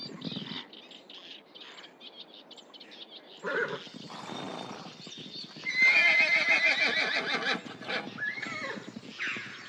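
Wild horses in a river floodplain of lakes, forests and reed beds whinny and neigh loudly, several calls rising over a background of hoof clip-clop and chirping birds, with no talking.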